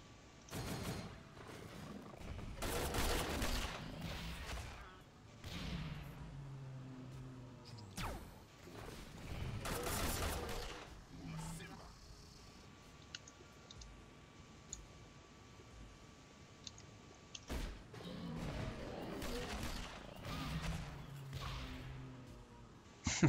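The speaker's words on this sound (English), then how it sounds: "Okay, we'll pulse rifle this guy." Pulse rifle fired in the video game Sword of the Stars: The Pit, heard as several separate bursts of loud, sharp blasts between quieter gaps, with a steady electronic tone in the middle stretch.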